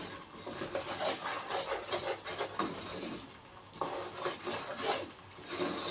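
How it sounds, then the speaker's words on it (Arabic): A spoon scrapes and swirls through béchamel sauce of flour and milk in a pan, giving repeated soft rubbing strokes in an uneven rhythm, close and fairly quiet. "بالذات البشاميل لازم تقلبيه كده وايدك تبقى فيه"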